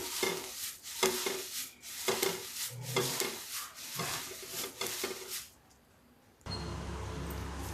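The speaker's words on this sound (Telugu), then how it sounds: "చింతాకు ఇలాంతా వేయించి పెట్టుకోవాలి" Tamarind leaves dry-roast in a pan with repeated scraping and stirring strokes and a light crackle. The strokes fall silent for a moment near the end, and a duller, steadier hiss follows.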